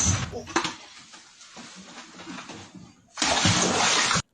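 Water splashes and sloshes inside a flooded house, a rough, churning wash at moderate level that drops back and then surges loud and steady near the end.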